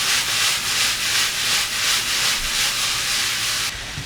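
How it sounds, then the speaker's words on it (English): Steady, loud hissing sizzle of chicken frying in a hot pan, with a gentle pulsing texture, cutting down abruptly near the end. "How's that for a noise, Mr. Emil, man? That's got sizzle"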